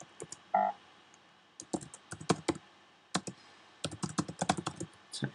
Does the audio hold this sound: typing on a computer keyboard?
yes